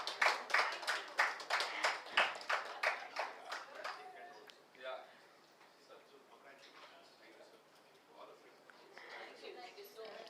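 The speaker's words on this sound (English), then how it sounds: "Let's give a huge round of applause for the company." Hands clapping at a stock exchange listing ceremony for a pharmaceutical company, a crisp burst of loud, rhythmic claps over the first four seconds that fades into scattered clapping and murmuring voices.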